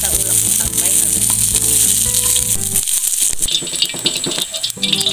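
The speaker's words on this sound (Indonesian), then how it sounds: "ini bumbu yang sudah di blender kita tumis ya, sampai wangi" Blended spice paste for soto Betawi sautéing in a pan, with a steady loud sizzle and frying crackle, a brief break, then sizzling and stirring rattles resume.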